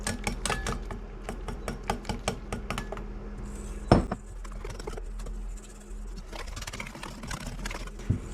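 A whisk beats flour into batter in a bowl, making quick rhythmic clinks and scrapes against the sides that come in a dense burst early on, then loosen into steadier stirring with a sharp knock near the middle.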